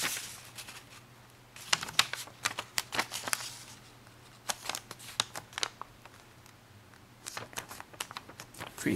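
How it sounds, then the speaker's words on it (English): Traditional origami paper folded and creased into a butterfly, giving crisp, scattered crinkles and sharp papery snaps that come in irregular bursts, close by and fairly quiet over a steady low hum. "Now you'll want to fold it so that this top edge aligns with this bottom edge down here."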